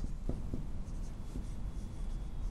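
Chalk or marker writing on a board during an optics lecture, a steady scratchy scraping with a few sharper strokes, fairly close over a low room rumble, with no talking.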